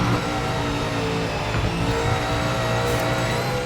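Race car engines in the racing game Project Motor Racing drone steadily at a loud, constant level, rich and mechanical with layered harmonic tones and no clear gaps, heard alone without talk.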